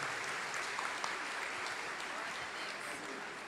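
A church congregation at an evening service applauding together, a sustained, even wash of many hands clapping, moderately distant, with faint voices mixed in.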